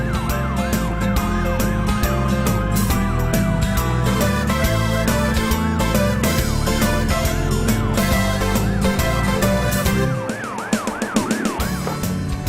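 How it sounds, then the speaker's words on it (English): A wailing ambulance siren cycles up and down steadily, loud and continuous, over the rumble of engines nearby. "here comes an ambulance to check that the diver is okay"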